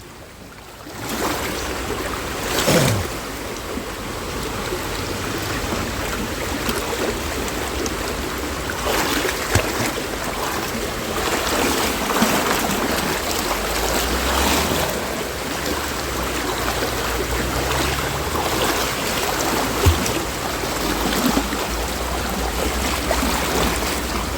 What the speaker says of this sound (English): Might get a bit loud water-wise now, guys, as I'm coming right up to this waterfall thing.